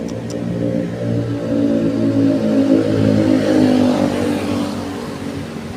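A motorcycle fitted with an aftermarket exhaust revs nearby, a loud, throaty, continuous engine drone that swells and eases over several seconds.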